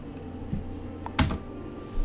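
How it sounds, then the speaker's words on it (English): A few computer keyboard keystrokes, with a sharper key press near the middle, typed while editing in Corel VideoStudio 2019, close and fairly quiet over low room hum. "I have hit enter on my keyboard"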